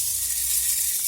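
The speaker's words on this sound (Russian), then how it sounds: "Это шум дождя." Beads pouring inside a rain stick, making a steady close hiss like falling rain, loud and continuous with no talking.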